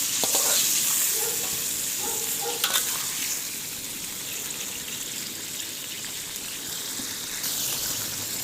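Onions and chicken fry in a karahi, giving a close, steady sizzle with occasional stirring clatter and spattering bursts, and no voices.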